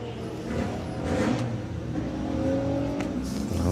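Volkswagen Golf R and a Mark II Golf launching side by side at a drag strip, steady loud engine roar with rising revs through the quarter-mile run, no voices.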